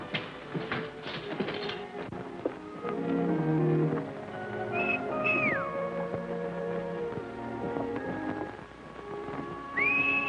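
A couple of rising and falling whistles cut through a dense bed of music and background noise in a 1939 western film, one midway and another near the end.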